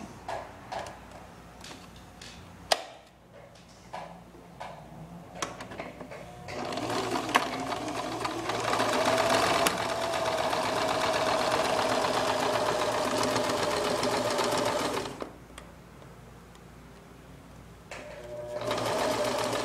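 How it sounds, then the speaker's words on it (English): Sewing machine running a straight stitch seam on white thread around a fabric tissue holder, starting with short bursts and then a long steady close whir of rapid needle strokes before stopping. "And you're going to want to go ahead and just sew all the way around until you come to the point on the other side that you started sewing."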